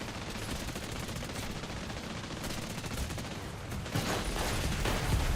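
Sustained machine gun fire from the tail gunner of a Saab B-18A medium bomber in War Thunder, a steady dense rattle over engine drone that grows slightly louder and sharper toward the end.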